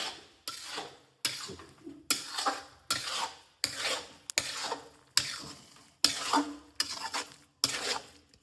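A green turmeric mixture is stirred in a pan for a North Gujarat dish, with about ten even, scraping spoon strokes that each swell and cut off in a steady rhythm. The sound is close and has no talk.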